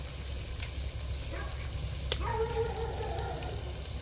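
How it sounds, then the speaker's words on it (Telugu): Onion and fenugreek leaves frying on a wood-fire stove, a steady close sizzle with a dog barking briefly in the background. "ఉల్లిగడ్డ కొంచెం వేగినాక మెంతి కూర వేసుకోవాలి"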